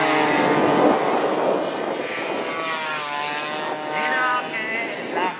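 AX100 racing motorcycles accelerate around a race track, their engines buzzing and whining through rising and falling revs, with a Spanish race commentator talking over them.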